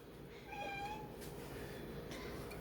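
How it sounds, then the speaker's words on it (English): A female house cat meows and whines near someone making crescent roll pinwheels in a kitchen. Two drawn-out, rising meows stand alone over a steady background hiss. "my cat is my girl cat. I don't know what her problem is."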